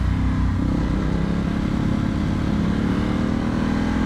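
Vyrus motorcycle engine, a finicky, rowdy machine, heard up close while being ridden, with a loud continuous throaty drone and rough pulsing revs that hold steady throughout.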